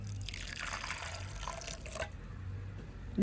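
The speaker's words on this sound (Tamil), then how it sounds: "அதுக்கு கொஞ்சமாக தண்ணி விடுவேன்" Water poured onto ground coconut to press out coconut milk, a soft splashing trickle close by that fades after a couple of seconds into quiet dripping.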